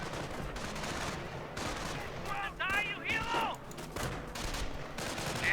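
Bursts of MG42 machine gun fire in a Company of Heroes battle, rattling at a distance beneath a steady din of combat with scattered other shots.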